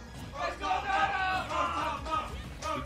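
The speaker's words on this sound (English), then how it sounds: "The crowd is chanting for Rotom Mo" A crowd at the Kingdom 5 Smash Bros tournament winners finals chants in rhythmic swells, with loud repeated bursts of massed voices rising and falling across the hall.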